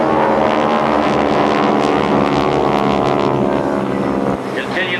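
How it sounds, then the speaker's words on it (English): GEICO Skytypers World War II aircraft fly at an air show over McGuire Air Force Base, a loud, sustained droning engine roar with wind buffeting on the microphone and an announcer talking over it. "Continue to watch the aircraft as they rejoin, flying straight ahead and then reverse back"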